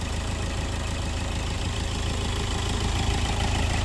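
A 2018 Hyundai Verna with a 1.6 CRDI diesel engine idles steadily, a close, even rumble with a faint knocking clatter that holds constant without revving.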